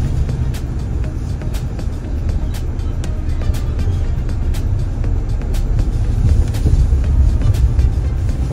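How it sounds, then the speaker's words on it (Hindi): Road traffic in Bihar heard from inside a moving car on a highway road trip: a steady low engine and tyre rumble with passing vehicles, continuous and fairly loud throughout, no talk. "क्या मस्त ट्रैफिक है बिहार में।"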